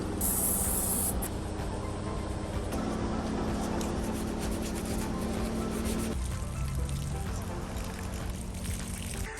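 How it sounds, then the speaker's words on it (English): WD-40 contact cleaner sprays in a continuous close, loud hiss for several seconds inside a car, steady with slight variations and no talking. "this is pretty much what I use, WD-40 contact cleaner, so you know it is safe and it's fast drying"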